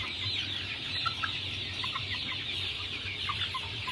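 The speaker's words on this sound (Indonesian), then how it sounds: "Ini ayam chopper ya, 800 ekor." Joper chickens, a flock of about 800 birds in a coop with dry rice-husk litter, cluck and murmur steadily, with scattered nearby calls rising over a constant flock hum and no voices.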